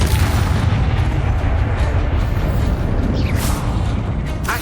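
Repeated Confringo and Bombarda spell blasts in Hogwarts Legacy, a sustained roar of heavy booms and rumbling impacts with whooshing bursts near the end.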